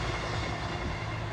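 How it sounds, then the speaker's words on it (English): A Class 221 train roars steadily past on the main line, loud and close, a continuous broadband rumble with no talk. "Oh, there's a train!"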